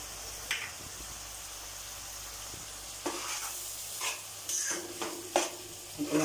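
Soybean biryani masala with turmeric and salt sizzles quietly in a pan while a spoon stirs and scrapes it, a soft frying hiss broken by several sharp utensil clinks and scrapes.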